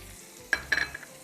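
Chopped onion and garlic sizzle and crackle in a hot pan while a utensil scrapes and stirs. There are a few sharp clicks over a low hiss.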